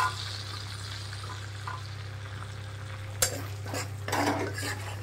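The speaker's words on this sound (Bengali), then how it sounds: "তেজপাতাগুলোকে দিয়ে দিলাম ফোড়নে।" Bay leaves and whole cumin fry in oil left from frying prawns, a soft steady sizzle under a low hum, with a couple of sharper utensil scrapes and stirs near the end.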